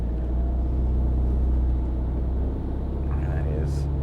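Medium SUV engine held at full throttle on an off-road climb, a steady loud low rumble with a dual-clutch gearbox labouring and close to overheating, with speech over it.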